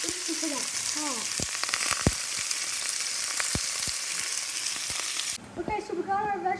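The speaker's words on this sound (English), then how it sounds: "So I'm gonna get all of this sauteing here." Elk steak and vegetables sizzle steadily in a hot pan, a dense continuous frying hiss with occasional sharp pops and crackles, close and loud throughout, briefly dropping at the end as stirring sounds take over.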